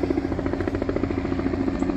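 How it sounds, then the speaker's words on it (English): Helicopter hovering over a flooded downtown Newport to view the damage, a steady, loud rotor thump with a pulsing rhythm and engine whine throughout, no voices. "where apparently helicopters have come to see the"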